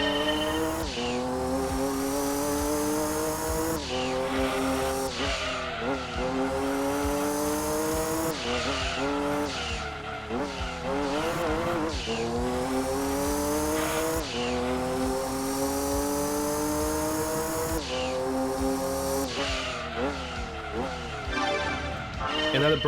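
A 1998 Toyota GT-One mid-engine, rear-drive race car in Gran Turismo 2 on PlayStation, its high engine note rising and falling through gear shifts for the whole stretch with occasional tire squeal through fast corners.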